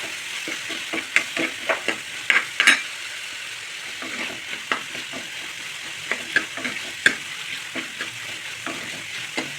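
Peanuts sizzle steadily in a hot frying pan while a utensil scrapes and stirs, with irregular clicks and taps against the metal.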